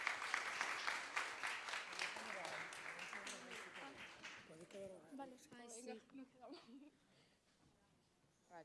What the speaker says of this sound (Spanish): Entonces le damos un aplauso a ellas dos que nos lo van a dar